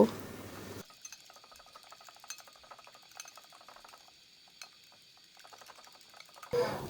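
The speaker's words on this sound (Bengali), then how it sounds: "এবার ডিমটা আমি ভালোভাবে কাটা চামচ দিয়ে ফেটিয়ে নিব" An egg with a little salt is whisked with a fork in a bowl, giving a quiet run of light, quick clinks and taps against the bowl that starts and stops abruptly.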